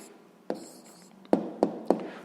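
A pen or pencil writes down the answer to a sixth-grade math exercise, with a faint scratch on paper and several distinct taps at the start and end of strokes, close and quiet.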